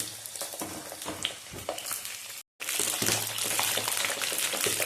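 Amla and green chilies fry in hot oil while being stirred and turned, a steady close sizzle and crackle with a brief dropout midway before the frying resumes louder.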